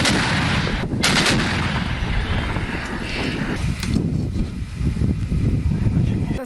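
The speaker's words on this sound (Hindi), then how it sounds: "होवित्जर टैंकों का इस्तेमाल किया जा रहा है और उनका इस्तेमाल करते हुए ये गोले दागे गए हैं" Howitzer tank artillery firing shells in a field near Kyiv during the Russia-Ukraine conflict, heard as heavy booming blasts and rumble over constant wind noise, with sharp reports near the start and a sustained loud roar throughout.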